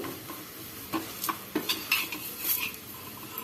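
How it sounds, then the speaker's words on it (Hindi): Lauki paratha cooking on a griddle as ghee is spread over it, with scattered scraping and tapping clicks over a faint steady sizzle, close and fairly quiet, no talk. "अब हम घी लगा देंगे, हल्का घी लगा देंगे"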